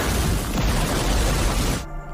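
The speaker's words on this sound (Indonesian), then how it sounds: "Lu Chen dengan meledakkan tempat para teroris menembak mortir" A big explosion in a war film as a terrorists' mortar position is blown up, a loud sustained roaring blast that fills the scene and then cuts off abruptly near the end.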